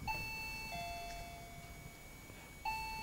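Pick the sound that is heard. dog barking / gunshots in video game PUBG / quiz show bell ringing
quiz show bell ringing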